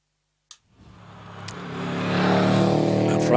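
A Subaru Impreza WRX race car at a hillclimb, sitting on the start line then launching, its engine note rising steadily and growing louder as it pulls away, after a brief sharp click at the outset.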